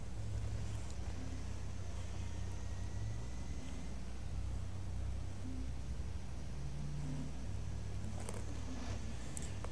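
Nikola One electric truck accelerating in Cargo Transport Simulator at night, a steady low engine hum with broadband road noise that holds throughout, with no talk.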